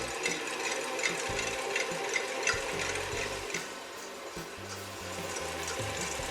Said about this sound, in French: Je verse les blancs dans la cuve du batteur, puis je les mets à monter